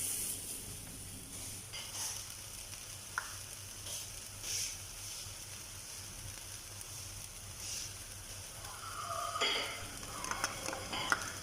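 Chicken tikka filling with onion and chili cooking in a pan, a steady low sizzle running throughout, with occasional soft scrapes and taps of a stirring utensil, moderately quiet and without speech.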